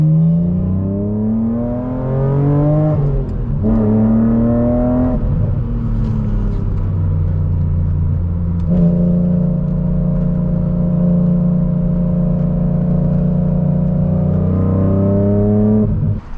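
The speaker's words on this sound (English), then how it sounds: "Today we are going for a drive in a BMW Z4M." A 2006 BMW Z4M engine pulls hard through the gears from the cabin, loud steady tones rising in pitch with each gear, brief dips at the shifts, no talking.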